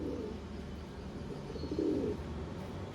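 A pigeon coos softly, with a low rolling call rising briefly near the middle over a steady background murmur of a bird-keeping setting.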